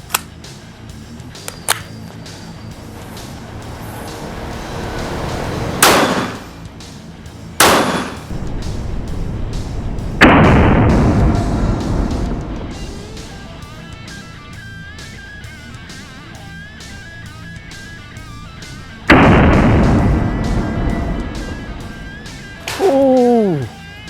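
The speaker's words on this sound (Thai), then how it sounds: "เดี๋ยวยิงใหม่นะครับเมื่อกี้เพิ่งยิงไปได้ สามนัดนะครับ" Several sharp, loud gunshots from a Kel-Tec PMR30 .22 Magnum pistol, fired as two close cracks, then a single shot and one more later, with someone talking between them.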